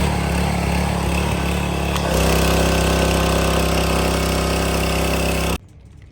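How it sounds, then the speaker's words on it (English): A pressure washer cleaning an abandoned motorcycle runs as a loud, steady motor drone that shifts to a slightly different tone partway through, then cuts off abruptly, leaving quieter background noise. "I want to go get it power washed and cleaned up"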